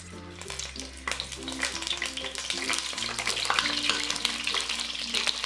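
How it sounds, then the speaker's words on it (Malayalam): Cut chillies fry in vegetable oil with a busy crackling sizzle that builds in intensity, accompanied by stirring and a low steady hum in the background. "ഇനി ഇതിലേക്ക് ഈ കട്ട് ചെയ്ത് വെച്ചിരിക്കുന്ന മുളകിട്ട് ഒന്ന് ഫ്രൈ ചെയ്തെടുക്കാം."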